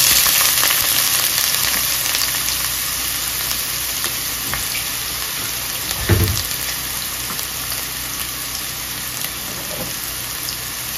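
Garlic and onion sizzle steadily in a pot of oil as the base for kale soup, a dense continuous crackle with one brief stir-like bump midway and no talking.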